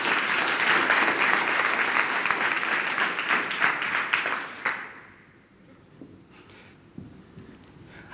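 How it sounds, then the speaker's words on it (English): A round of audience applause at the CIGFARO Finance Interns Summit, dense and steady for several seconds before dying away abruptly, leaving a quiet room with faint stray sounds. "I'd like us to give us CIGFARO a round of applause."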